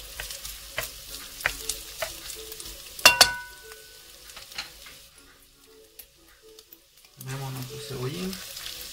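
Bacon browning in a frying pan gives a soft, steady sizzle with scattered ticks and clinks of utensils, a louder clatter near the middle, then a brief hush before the frying resumes.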